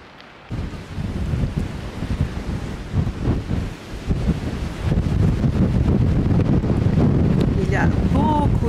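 Strong wind by the sea in Denmark buffets the microphone in a loud, steady, low roar that continues throughout, with gusts swelling toward the end.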